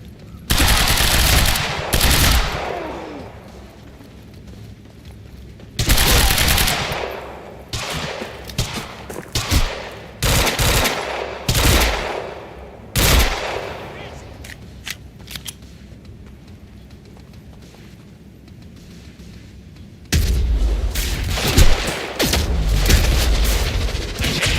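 Rapid automatic gunfire from the video game Quantum Break comes in loud, dense bursts separated by quieter gaps, with booming impacts and a few isolated shots.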